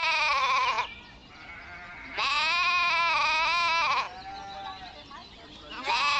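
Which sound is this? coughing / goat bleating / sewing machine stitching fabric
goat bleating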